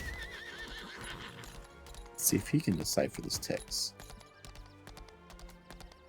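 Horse hooves clip-clop in the video game Lost Ark, with a horse neighing and whinnying loudly in the middle, over game music and a voice speaking.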